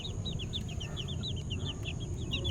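Blue Face Hatch crossed with Asil chickens give repeated short high-pitched chirps and clucks over a constant low rumble of background noise, fairly close, with no talking.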